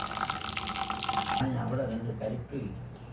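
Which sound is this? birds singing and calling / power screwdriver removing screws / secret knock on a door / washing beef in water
washing beef in water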